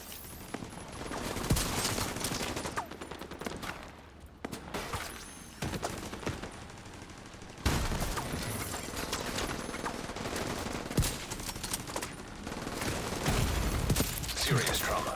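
Video game gunfire from a sniper turret: bursts of sharp shots and mechanical clatter rattle across a busy game soundscape, with a voice talking throughout.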